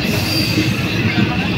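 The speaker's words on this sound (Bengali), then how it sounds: "ছেড়ে দিল আমাদের স্টেশন অম্বিকা কালনা, ছেড়ে দিল অম্বিকা স্টেশন।" The Malda Town Intercity Express pulls away from Ambika Kalna station, heard from on board as a loud continuous rumble of wheels on rails with a faint high squeal above.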